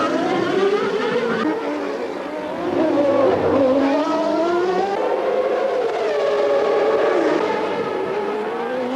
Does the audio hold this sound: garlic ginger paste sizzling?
no